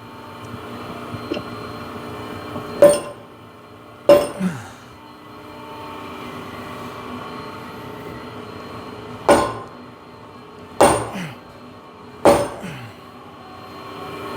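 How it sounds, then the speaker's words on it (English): Five separate dull blows from a dead blow hammer striking a hydraulic cylinder with a bent half-inch rod, spaced unevenly over a quiet workshop hum, each a short thud with a brief ringing tail. "I got a dead blow and I'm gonna hit over here."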